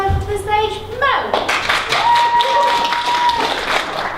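Audience at a university drama society variety show claps and cheers to welcome a performer onstage, the applause swelling and continuing under voices and a sustained sung or held tone.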